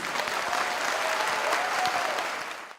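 Sustained applause from an audience at a weekend union debate, welcoming general service workers from basic education; steady, dense clapping throughout that fades at the very end, with no voices over it.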